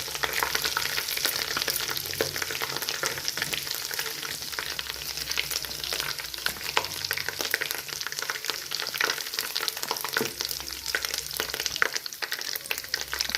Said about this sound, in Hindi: अब हम इसके अंदर डाल रहे हैं लहसुन अदरक का पेस्ट 2 टेबलस्पून, ठीक है जी। अच्छे से फ्राई कर देंगे।